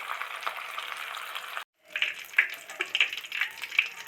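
Potatoes frying in a pan make a close, steady sizzle that drops out briefly, then returns with sharper crackles and pops, with no talking.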